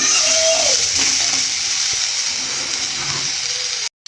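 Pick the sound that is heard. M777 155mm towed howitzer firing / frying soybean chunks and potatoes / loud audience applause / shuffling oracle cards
frying soybean chunks and potatoes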